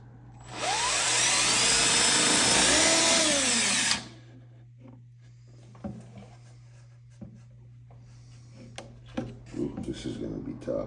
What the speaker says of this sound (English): So I will still pre-drill.